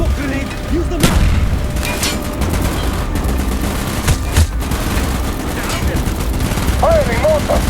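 Mortar fire in the Black Ops video game, Project Nova, pounds amid dense, continuous battlefield gunfire, with repeated sharp blasts and rattling shots close by and shouting voices mixed into the chaos.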